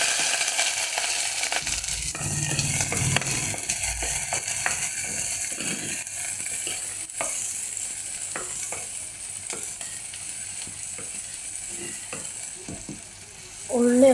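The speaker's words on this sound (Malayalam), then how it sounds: "ഉള്ളിയൊക്കെ ഒന്ന് നന്നായിട്ട് വഴണ്ടി വരട്ടെ, അതുവരെ ഒന്ന് വെയിറ്റ് ചെയ്യാം." Shallots and green chillies fry in a pan over a fire-lit stove with a steady soft sizzle, broken by occasional scraping and stirring clatter from the spoon.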